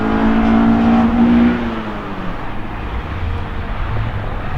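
An Acura Integra engine revs loudly up close, a strong tonal rise that holds for about a second and a half before dropping away into a lower, rougher engine rumble.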